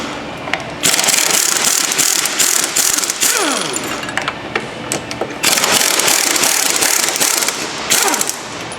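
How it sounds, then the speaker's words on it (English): A ratchet loosening two 17mm bolts on a rusty rear control arm of a 2007-2011 Honda CR-V, with loud bursts of rapid clicking and metallic grinding, separated by brief pauses, close up. "Loosen and remove these two 17mm holding this in place."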